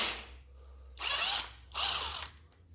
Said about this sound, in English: What we'll do is actually have the drill there, just to spin them off a little bit quicker.